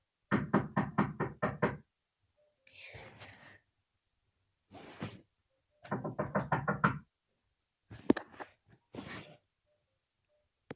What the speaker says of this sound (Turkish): Kapı çalarlar.